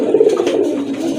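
A fancy pigeon coos close and loud, one short throaty rolling call with no talking.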